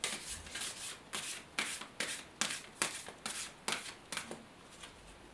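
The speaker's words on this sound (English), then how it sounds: "So I'll just shuffle the cards." Tarot cards shuffled by hand in a steady run of about a dozen quick riffling, papery bursts, close and fairly quiet, with no talking.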